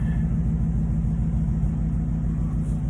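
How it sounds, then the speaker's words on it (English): A Ford Mustang GT S550 with long-tube headers idles at around 650 rpm, giving a steady, loud, low rumble with an even pulsing throb and no change in pitch throughout. "the car is now idling at like 650"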